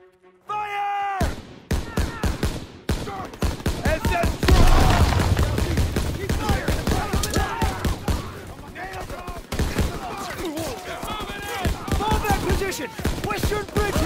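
Dense, loud gunfire in the Call of Duty WW2 Death Factory mission: rapid rifle and machine-gun bursts crackle almost nonstop for over ten seconds, with shouted voices mixed in.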